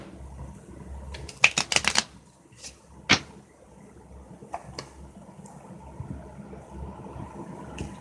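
A deck of tarot cards being shuffled during a reading, a close quick riffle of crisp snapping flicks, then scattered soft card taps and handling noises against low background hiss.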